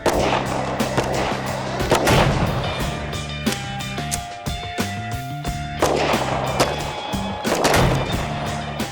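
Several firearms fired at a paper target on a shooting range by a line of three shooters: sharp, loud reports in an irregular series, each with a short ringing tail, some spaced apart and some in quick succession, with no talk.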